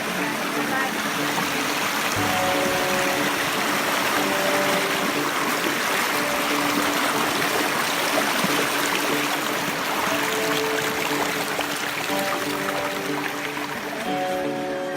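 A rain-swollen stream rushes and gurgles nearby in a continuous, loud flow, with faint tonal hum from something mechanical running underneath.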